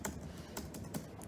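Faint, quick keystrokes tapping on a Turbo Lite laptop keyboard, a handful of soft clicks in an irregular rhythm in a quiet room.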